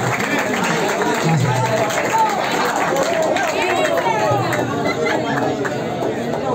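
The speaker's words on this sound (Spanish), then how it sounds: "¡Aplauso, aplauso!" Spectators at a Spanish-language rap battle event clap and cheer, a loose crowd applause that stays steady under chatter and overlapping voices throughout.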